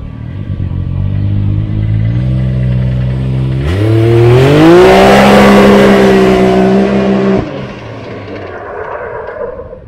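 A car fitted with a new big turbo exhaust idles with a deep rumble, then revs hard, climbing to a loud, raspy peak before dropping back to idle.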